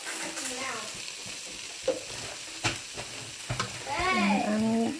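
Onions frying in a pan while being stirred, with a steady sizzle and a few sharp scrapes. Faint voiced sounds or music sit underneath, growing clearer near the end.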